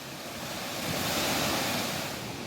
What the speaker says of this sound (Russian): Подбираемся ближе к водопадику.